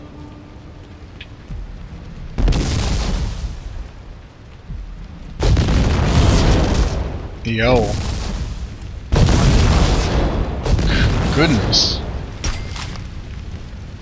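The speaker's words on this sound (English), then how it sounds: "It's all of explosions, though." Several heavy booming blasts in the PC video game The Godfather II roar in bursts, loud and close, with a short voice calling out between them.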